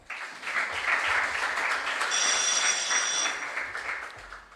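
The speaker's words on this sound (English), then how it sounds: "Let's begin with a round of applause." Audience applause at a junior science and maths quiz regional qualifier, steady dense clapping that swells and holds for several seconds, with a faint high ringing tone partway through.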